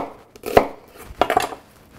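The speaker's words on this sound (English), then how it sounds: "Just slice this up." A knife slices through an onion on a board in a few quick, crisp cuts, one sharp chop followed by a short pair of strokes, close and clear with no talk.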